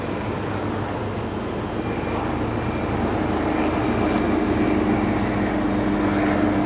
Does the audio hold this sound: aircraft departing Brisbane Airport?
yes